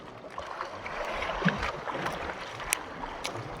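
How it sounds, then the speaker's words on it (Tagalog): Steady wind and rolling waves around a small fishing boat out at sea, a low continuous rush with occasional splashes, fairly faint and without speech. "mahangin pa, malaki yung mga alon dito sa Kalalawdan."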